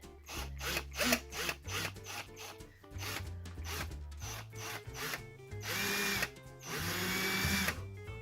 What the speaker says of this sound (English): We'll see now, we drill this gently.